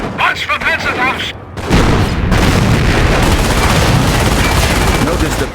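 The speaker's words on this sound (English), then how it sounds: "Notice the Panzer's slow rate of fire" Panzer tank cannon fire in the video game Company of Heroes, heavy booming blasts with sustained rumbling battle noise, loud and close, with a voice heard over the start.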